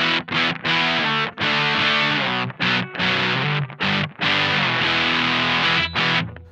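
Overdriven electric guitar plays chords through an Analog Alien Rumble Seat overdrive pedal, with short pauses between strums and a warm, moderately saturated tone.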